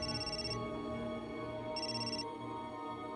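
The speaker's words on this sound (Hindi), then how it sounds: "ले, तुम्हारे छोटे भाई का फोन है।" A phone rings with a repeating electronic ringtone, two bursts of tone separated by a pause, close and clear with no talking.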